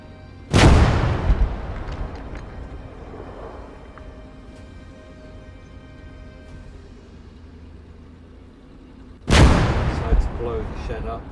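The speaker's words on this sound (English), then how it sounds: "Decided to blow the shed up to get a better line of sight in front." A shed is blown up by an explosion in the Call to Arms: Gate of Hell wartime game, giving two loud booming blasts several seconds apart, each with a long rumbling decay and scattered debris between them.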